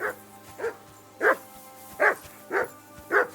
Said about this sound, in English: that damn dog of yours barking